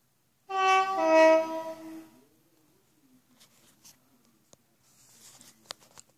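Freightliner Class 47 locomotive horn in the Trainz video game: a single blast of about one and a half seconds, a rich chord-like tone, followed by faint clicks and light rattling.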